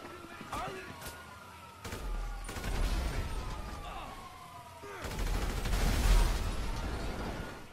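Bursts of gunfire and booming blasts from helicopters being shot down in GTA 5 crackle over a noisy, chaotic background, with people talking throughout and a heavy explosion surge near the end.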